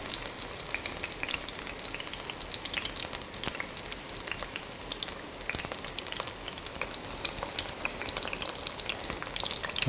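Food sizzles and crackles in a hot pan during stir-frying just after oyster sauce is added, a dense continuous frying hiss with scraping stirs, close and fairly loud, no voices.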